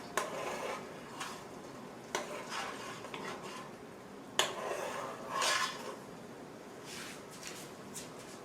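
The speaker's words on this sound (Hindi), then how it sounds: "इसके बाद मैं आपको इसको डिश आउट करके सर्व करके दिखाती हूँ" Utensils clink and scrape against dishes while tamarind sauce is served out, a series of light metallic taps and clatters at irregular intervals, fairly quiet and close, with a faint sizzle in the background.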